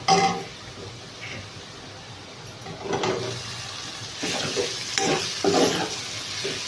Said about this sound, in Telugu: ఇప్పుడు ఎగ్ వేసేసుకుందాము